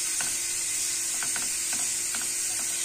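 Hot water poured into a pot of toasting bulgur pilaf with meat and potatoes, producing a constant loud hiss and sizzle punctuated by small crackles and pops, with no voices.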